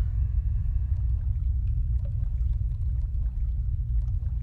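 Water in a dark tunnel in the horror video game Forgotten Tunnels makes a continuous deep rumbling pour, with faint drips and trickles scattered above it.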